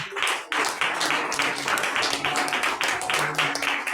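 A church congregation claps in praise during a Holy Communion service, a dense continuous patter of many hands with faint rhythmic accents, close and steady throughout.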